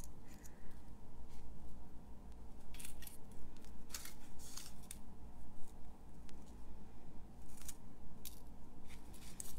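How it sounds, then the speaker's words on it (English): Scissors trim a paper leaf off a handmade stamped card, giving repeated close snipping cuts in uneven bursts over a steady low background hum, with no speech. "I got a leaf going out the side here so I can just trim that one off."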